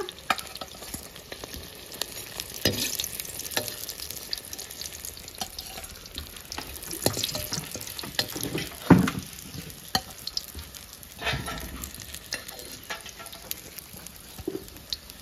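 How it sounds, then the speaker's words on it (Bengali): Potatoes and eggplant sizzling and being stirred in hot oil, with scraping utensil clatter and intermittent clinks over a constant frying hiss. "আলু আর বেগুন একসঙ্গে দিয়ে কষাচ্ছি"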